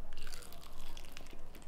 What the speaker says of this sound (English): Oh, that crunch though.